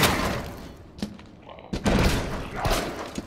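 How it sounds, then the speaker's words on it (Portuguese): Gunfire in the video game Resident Evil 2 Remake, two heavy booming shots about a second apart, each loud and sharp with a short decaying tail over low game ambience. "Oh, dois tiros, cara."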